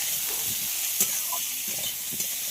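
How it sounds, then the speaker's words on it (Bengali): Raw mango pieces fry in a pan after salt is added, giving a steady, fairly quiet sizzle with occasional stirring scrapes and small ticks throughout. "লবণটা দিয়ে আবার খুব ভালোভাবে ভেজে নিতে হবে"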